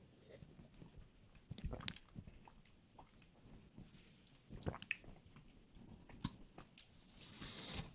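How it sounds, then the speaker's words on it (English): Quiet, close chewing of Fontina cheese, with soft irregular moist bites and squishes scattered over several seconds against a low background. "All right, eat it. Chew on it."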